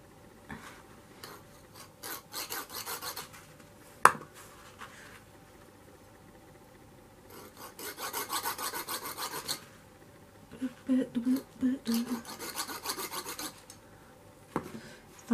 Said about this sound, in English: we need our saw here. Let's make some dents.